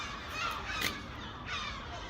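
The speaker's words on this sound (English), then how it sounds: "these gulls letting out this alarm call will naturally just tell every other bird in the area that there's a predator about" Gulls near a building in Watford give sharp, repeated alarm calls, a few harsh squawks rising over faint background noise, with no talk.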